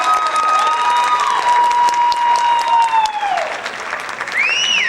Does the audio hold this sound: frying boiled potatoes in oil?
no